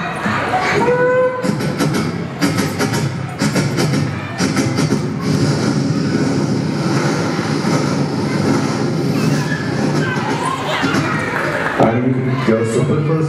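A child at a school annual gathering vocally imitates two trains crossing, a sustained rushing, rumbling voice with rhythmic bursts, recorded loud and close amid crowd murmur and talk.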